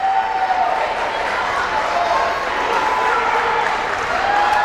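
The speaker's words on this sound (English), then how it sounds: "The fans are on their feet. It's loud. It's exciting." A high school volleyball home crowd in a gym cheers and roars in a loud, sustained wash of noise, with a steady tone running through it and a voice talking over it.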